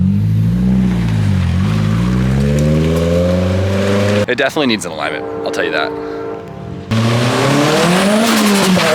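A turbocharged Nissan SR20DE car revs hard, its engine pitch climbing and falling in loud, close sweeps, broken by a quieter stretch where someone talks.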